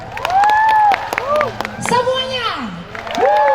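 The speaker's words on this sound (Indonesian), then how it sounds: "Saya minta laki-laki bertepuk tangan." An audience at a gathering claps hands in bursts of loud, rapid claps, with a voice speaking over it through a sound system.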